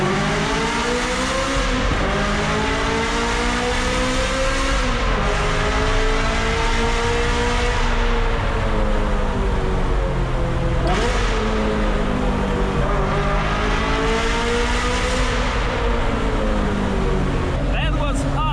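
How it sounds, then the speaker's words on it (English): A straight-piped, naturally aspirated Ferrari F355 engine revs hard inside a tunnel, its loud, dense harmonic wail climbing and dropping through repeated gear changes, echoing off the walls and dominating throughout. "Driving a straight pipe, net-aspirated Ferrari in a tunnel"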